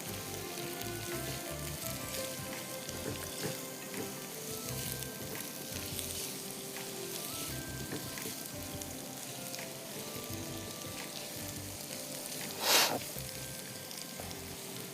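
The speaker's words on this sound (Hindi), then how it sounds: "जब तक प्याज यहाँ ब्राउन हो रही है" Onions frying in a pan until brown, a steady close sizzle that continues throughout, with a brief louder hiss of stirring or spattering near the end.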